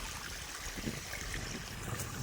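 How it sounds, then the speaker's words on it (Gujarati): Water gushes steadily from a farm pump motor, making a faint, even, broadband rushing hiss with no pauses. "તમે જોઈ શકો છો પાણી આવ જતું હોય છે"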